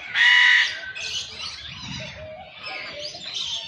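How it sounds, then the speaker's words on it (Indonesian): Parrot-family bird squawking at the TMII bird park, a loud harsh squawk at the start followed by fainter calls and chirps, with soft background noise. "Kalau ini dia masih keluarga dengan burung nuri ya."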